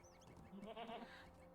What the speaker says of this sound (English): I was not expecting a goat.